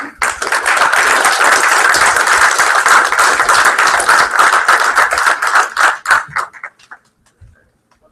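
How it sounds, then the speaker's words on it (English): An audience at a game studio's greenlight pitch event claps in a dense, sustained round of applause that thins into scattered claps and fades out over the last couple of seconds. "But let's all give them a round of applause for."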